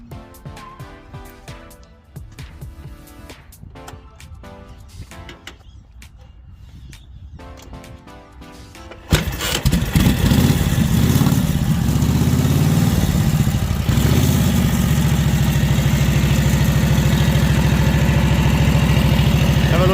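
A 1942 Harley-Davidson WLA motorcycle with 2321 miles on the clock fires up after about nine seconds of quiet clatter, then settles into a loud, steady, close idle that runs continuously to the end.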